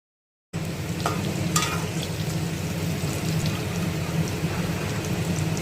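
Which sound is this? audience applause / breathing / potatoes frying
potatoes frying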